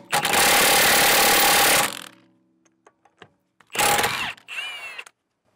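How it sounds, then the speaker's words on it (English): An impact wrench hammers at overtightened lug nuts on a VW Passat TDI, a loud buzzing burst of nearly two seconds, then scattered clicks and a second short burst followed by a brief whirring spin-down. "why would you put lug nuts that tight?"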